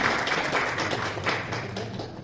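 A crowd at a prize distribution ceremony breaks into applause for a prize winner: a dense, steady patter of many hands clapping that carries on for a couple of seconds at moderate loudness.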